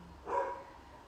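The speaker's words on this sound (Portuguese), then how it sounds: "Ó a cachorrada gritando aqui." One short, muffled dog bark sounds at a distance, faint and brief against a quiet background.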